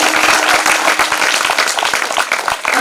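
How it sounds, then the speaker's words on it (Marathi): Loud sustained applause from a crowd at a kirtan gathering during a week-long religious saptah, honouring a bhajan group, many hands clapping densely and evenly close by with little else heard. "या भजनी मंडळासाठी एकदा जोरदार टाळ्या वाजवा"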